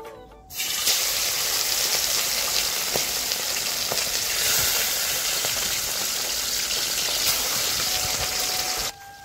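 Fresh small young carp fish frying in a pan (kadai), a steady loud sizzle and crackle that holds continuously with no talk.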